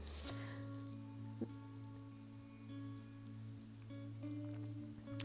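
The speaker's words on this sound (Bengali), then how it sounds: "গরম তেলে একটু পাঁচ ফোড়ন দিয়ে একটু টমেটো দিয়ে দিলাম" Tomato and five-spice seeds (panch phoron) sizzling in hot oil, a steady close crackling hiss over a low hum, with a brief clink partway through.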